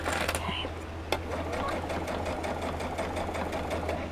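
A sewing machine stitches a burp cloth, running in a steady rapid whir close by, with a few brief pauses and a click near the start while a person talks quietly over it.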